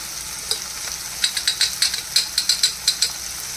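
Chopped tomato and salt go into a sizzling pan for a mushroom roll filling, with a steady hiss and a quick series of rhythmic spoon scrapes and clinks against the pan; nobody speaks.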